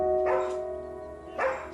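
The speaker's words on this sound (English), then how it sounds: "Living with a daily barrage of barking" A Border Collie barks twice, fairly close and sharp, with a long pause between the barks over a steady background hum.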